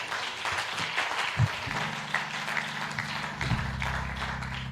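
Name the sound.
applause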